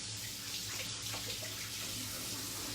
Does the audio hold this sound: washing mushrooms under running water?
yes